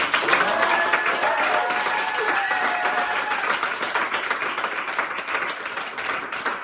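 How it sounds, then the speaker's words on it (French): An audience at a private concert gives a singer a loud, continuous round of applause, dense steady clapping that carries through the whole stretch with little change in level. "On l'applaudit bien fort s'il vous plaît."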